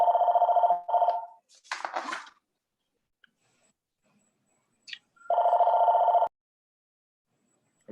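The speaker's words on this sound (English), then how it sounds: "Somebody's phone is ringing." A phone rings during a city budget workshop meeting: loud, electronic ring bursts, two at the start and another after a pause, with a short rustling noise between them.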